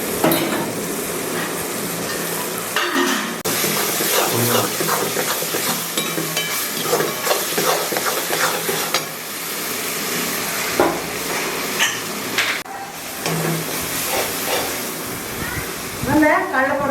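Tomatoes and masala sautéing in a pan, a steady sizzle with scraping and stirring clinks against the pan, close up, continuing throughout while someone talks over it.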